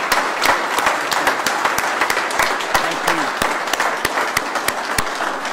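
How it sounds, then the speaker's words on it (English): An audience at a mayor's economic development announcement gives a round of applause, a steady patter of many hands with distinct individual claps standing out nearby, lasting several seconds. "let's give Chad and Legacy Sports Tennessee a round of applause and welcome them to Murfreesboro"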